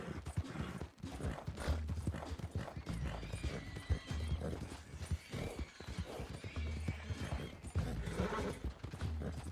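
A horse in a video game gallops with a steady, rapid clip-clop of hooves and lets out whinnying neighs. The sound runs continuously at a moderate level, with faint game mechanism clicks underneath.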